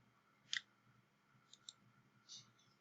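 Several sharp computer mouse clicks while downloading a file, a close doubled click followed by a few lighter ones against a quiet background.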